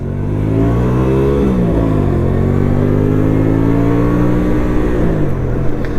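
A Hyosung GV125 Aquila 125cc cruiser motorcycle rides through a town centre, its engine droning loudly and steadily up close, with the pitch rising and easing through gentle throttle changes.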